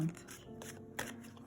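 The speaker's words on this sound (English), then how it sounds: "and yet I am shuffling the deck" A deck of tarot cards is shuffled in a soft, papery riffle of quick flicks and rustles, quiet and close, with a slightly sharper snap near the middle.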